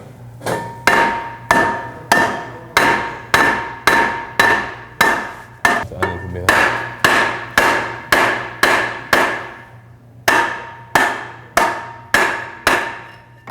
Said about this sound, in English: we're systematically hitting it on both sides and prying it to get it to loosen up